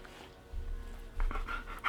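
A needy dog pants and whines close by indoors, soft breathy huffs building over two seconds with a few sharper whimpering bursts toward the end.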